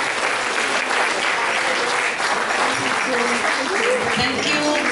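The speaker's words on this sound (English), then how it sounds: "Let's give them a big round of applause." Loud, steady audience applause fills the room after a governor's speech, dense clapping sustained throughout with faint voices mixed underneath.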